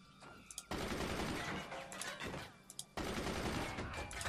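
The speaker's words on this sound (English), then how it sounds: "use a machine gun to shoot mortars and missiles" Rapid machine gun fire in the real-time strategy game Forts, shooting at incoming mortars and missiles; dense, continuous bursts that break off briefly near the start and again midway before resuming loud.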